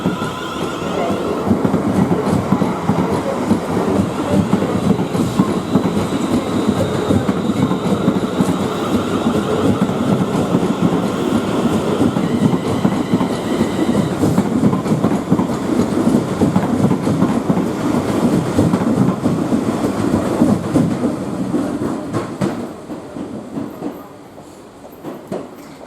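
A passenger train on the London service passes close by, a steady loud rumble with rhythmic clickety-clack of wheels over rail joints that holds for most of the stretch before fading away at the end.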